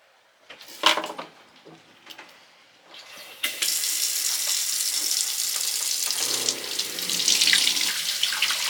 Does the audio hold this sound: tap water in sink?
yes